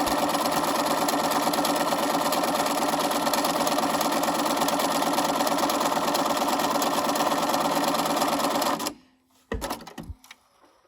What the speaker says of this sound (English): I'm just going to continue to sew down the rest of the twill tape.